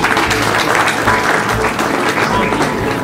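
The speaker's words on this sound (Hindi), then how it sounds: "जोरदार तालियां।" Loud, close applause at an award ceremony for a Kashmir bakers and confectioners association during a food fair, continuous clapping from a crowd across the whole stretch.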